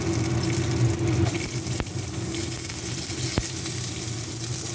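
Bay leaves, cinnamon and cumin sizzle in a single spoonful of oil, giving a continuous close hiss over a low hum, with two sharp clicks along the way.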